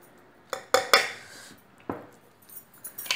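A spoon adding chili to a Hyderabadi tomato dish, with a few sharp metallic clinks and taps of the spoon against the bowl, separated by quiet gaps.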